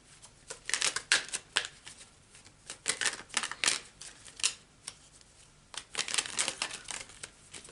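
Tarot cards being shuffled and drawn: a busy run of crisp papery riffles, flicks and slaps in uneven bursts, close and fairly quiet, with no voices.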